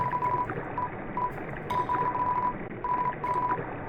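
Telephone dialing tones from the video game Undertale, a series of short electronic beeps at a steady pitch in quick bursts and pauses, standing alone without talk.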